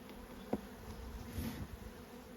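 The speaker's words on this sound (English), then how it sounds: "Yay, happy bees. Very happy bees." Honeybees buzz softly around a hive outdoors, a continuous faint droning hum with a few individual bees passing close to the microphone.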